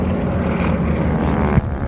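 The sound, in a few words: Zero propeller airplane attacking in air show reenactment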